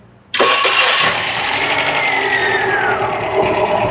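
A turbocharged car engine with a broken piston cranks and catches abruptly, flaring loud, then settles into a rough, steady idle close by.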